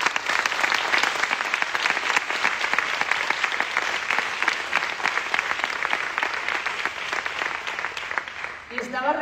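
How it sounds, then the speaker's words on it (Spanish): Sustained audience applause at an awards gala, a dense steady patter of many hands clapping for several seconds before tapering off near the end as a voice begins. "Vamos a dar un aplauso para empezar."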